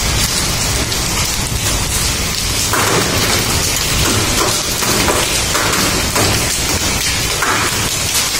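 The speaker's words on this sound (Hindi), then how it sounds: "यहाँ पे जी ओले पड़ रहे हैं काफ़ी ज़्यादा" Hailstones fall heavily during a thunderstorm, a loud, continuous roar of hard pelting on surfaces close by, dense and unbroken throughout with no voices.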